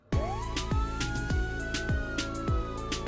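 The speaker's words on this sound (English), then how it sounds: "The wail of sirens broke the silence" A police siren wails in a long rising and falling sweep, close and loud, accompanied by a regular thumping beat underneath.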